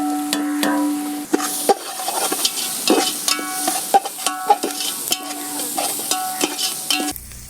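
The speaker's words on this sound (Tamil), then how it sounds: "ஜிஞ்சர் கார்லிக் பேஸ்ட் நல்லா கொஞ்சம் பச்சை வாடை போகிற அளவுக்கு நல்லா அப்படியே ஃப்ரை பண்ணிக்கலாம்" Ginger garlic paste with chilli powder, coriander powder and garam masala sizzles steadily in a pan on a village stove, with repeated metallic stirring clinks over the constant frying hiss.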